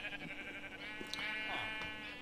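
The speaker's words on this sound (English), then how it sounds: "Your sheep are inferior." Sheep in the Minecraft video game bleat in a short, nasal wavering cry, faint and low in level, over soft background game ambience.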